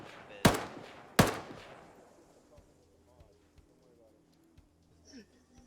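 In Arma 3, an enemy NPC fires two loud, close gunshots about a second apart, each booming and then fading into a long tail, followed by faint distant shots and quiet background sounds.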